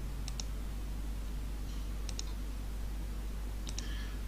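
A computer mouse clicks in three quick double-click pairs spaced well apart, crisp and faint over a low steady electrical hum.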